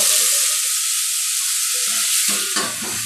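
Cumin seeds sizzle loudly in hot oil, a dense continuous crackle that stays strong throughout, with stirring scrapes near the end.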